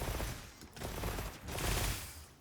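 Rapid shots from a light bowgun in Monster Hunter fire in a dense, continuous burst of fast repeated reports, loud and close, surging and easing with no talking over them.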